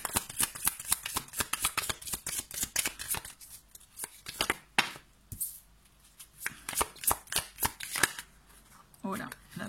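Tarot cards are riffled and shuffled in repeated rapid bursts, then single cards are slid and drawn, crisp and close, with a soft voice speaking in between.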